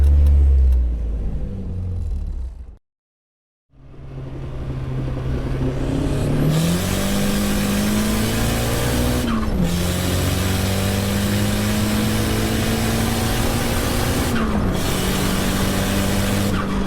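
A Nissan S14's engine drones loud and close through a hard pull, its pitch climbing steadily after a brief cut-out, with shift dips along the way. No voices over it.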